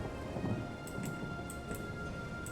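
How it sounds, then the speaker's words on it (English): Steady rain with rumbles of thunder in a video game siege of a walled city during the Three Kingdoms era, a constant wash of rainfall with a few sharp crackles, no voices. "It's also raining"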